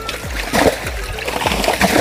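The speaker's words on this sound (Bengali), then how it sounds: "দেখো সব জল চলে যাচ্ছে।" Water splashing as a small village pond is bailed out by hand to catch fish: close, rhythmic splashes and sloshes repeating every fraction of a second, with faint voices in the background.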